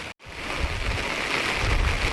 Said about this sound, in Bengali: বিরাট বৃষ্টি নেমেছে দেখো।